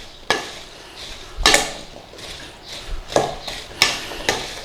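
Spoon scraping and clinking against a bowl while salt is mixed into apple pie filling, a series of short, sharp stirring clatters spaced irregularly, close and alone with no talking.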